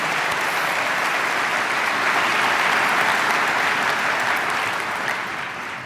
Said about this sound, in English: let's give a round of applause to Kevin.